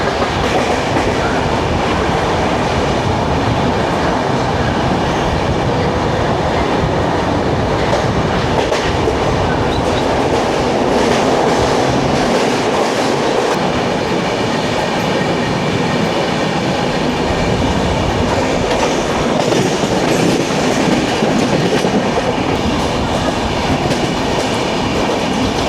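The 12860 Mumbai–Howrah Gitanjali Express runs on the tracks between Mumbai stations, a loud, continuous roar of rolling wheels with rhythmic clickety-clack and rattling carriages heard close from on board, no talk.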